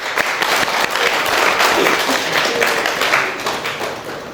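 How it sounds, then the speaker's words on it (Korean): A congregation claps at a Sunday morning service during a church summer retreat, producing close, busy applause that swells in the middle and tapers off toward the end. "하나님께 영광의 박수 올려드리겠습니다"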